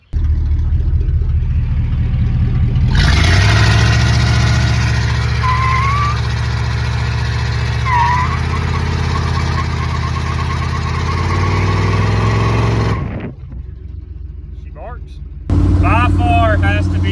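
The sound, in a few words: old donor truck driving home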